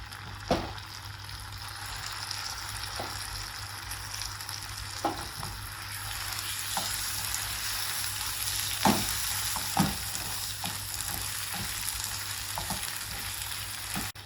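Mustard greens (saag) cooking in a pan with red chili, a steady moderate sizzle with occasional stirring clicks and scrapes, no voices.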